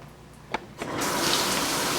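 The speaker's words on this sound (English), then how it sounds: "You can make the water flow through the shower head or the nozzle" Water rushes from a shower head or tap nozzle, switched on by a diverter control, starting after a couple of faint knocks and then flowing as a steady, close, broadband hiss.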